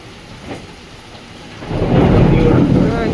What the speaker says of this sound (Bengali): কিভাবে মেঘ ডাকছে না।